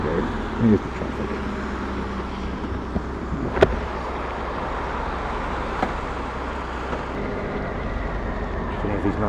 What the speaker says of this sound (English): Here's the traffic.